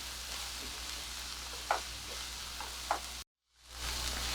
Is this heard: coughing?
no